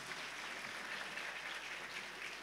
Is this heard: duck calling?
no